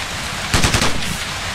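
A sniper rifle fires in the tactical shooter Ghost Recon, a short, sharp report with a quick rattling tail that cuts through a steady background hiss and fades within a fraction of a second.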